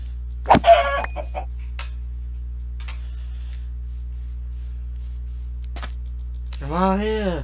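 A chicken in Minecraft Java Edition clucks once, a short, clear in-game cluck near the start over a steady low game hum, followed by quiet stretches and a brief harmonic call toward the end.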